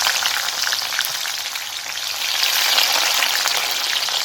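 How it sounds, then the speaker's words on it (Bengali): Sliced onions frying in hot oil with whole garam masala, a steady, close, continuous sizzle with a crackling hiss that swells slightly toward the end, no voices over it. "গোটা গরম মশলা দেওয়ার পরে সুন্দর একটা গন্ধ বার হলে এই যে পেঁয়াজিগুলো দিয়ে দিই"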